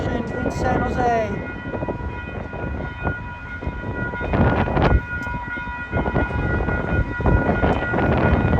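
Caltrain 154, a southbound local train bound for Diridon Station in San Jose, pulls in with a loud rumbling roar and a brief horn-like tone, heard close by on the platform.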